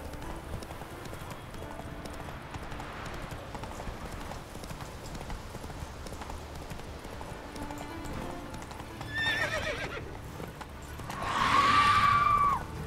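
Roach, the horse in the video game The Witcher 3, clip-clops along at a steady pace, then gives a loud whinny near the end. Game ambience runs underneath.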